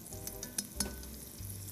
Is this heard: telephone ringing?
no